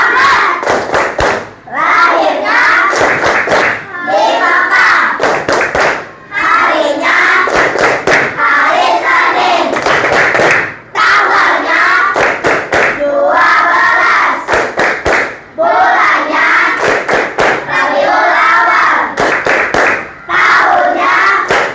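Schoolchildren in a classroom clap the Tepuk Nabi chant together, loud rhythmic bursts of claps in repeating patterns with brief pauses between phrases, their voices chanting along.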